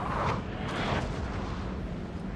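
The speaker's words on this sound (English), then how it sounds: "I can keep firing the cannons where I want to." Cannon artillery firing on a battlefield in Napoleon: Total War, a broad rumbling boom with a sustained roar of distant battle noise filling the whole stretch at steady loudness.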